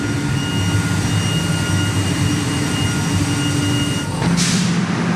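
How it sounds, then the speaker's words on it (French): Air compressor supplying air for ozone production at a water treatment plant, a loud steady industrial roar with a low hum, continuous throughout with a slight shift in tone near the end. "Alors le bruit que tu entends là, c'est la production d'air."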